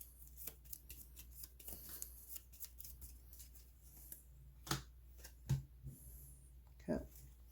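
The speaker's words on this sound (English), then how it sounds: "Shuffle them up, take 2 random ones." Playing cards for a Legendary Marvel deck-building board game are shuffled, giving soft riffling and papery flicks with a few sharper snaps of cards, fairly quiet and close, with brief speech around them.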